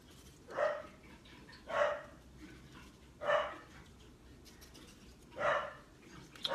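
A dog barks four times at spaced, irregular intervals, each a single moderately loud bark heard indoors over a quiet background, with no talking.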